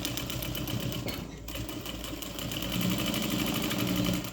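Electric sewing machine stitching all the way around a fabric pet bandana, a steady, continuous mechanical whir and rapid needle chatter up close, briefly pausing once before resuming.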